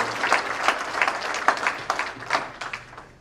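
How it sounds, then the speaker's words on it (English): Guests at an anniversary celebration applaud the party organizers with lively clapping from a crowd, loud and rhythmic with sharp accents before tapering off near the end. "a round of applause for you"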